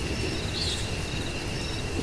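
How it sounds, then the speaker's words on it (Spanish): Torrential rain pours down in a steady, dense roar during a sudden storm over open fields, with a low rumble of thunder mixed in and no voices. "Los primeros gotones no demoraron más de 30 segundos en hacerse lluvia torrencial, truenos, relámpagos y rayos."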